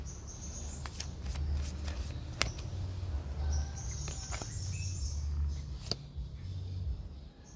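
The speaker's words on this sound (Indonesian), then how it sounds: "Jadi kita ambil dua kartu dari deck ini." Tarot cards are drawn from a deck, producing quiet shuffling and sliding rustles with a few sharp flicks and snaps, faint and close over a low background hum.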